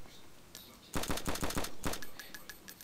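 Rapid burst of video game gunfire from a rifle during target practice, about eight to ten sharp, loud shots in quick succession followed by a fading tail, with no talking over it.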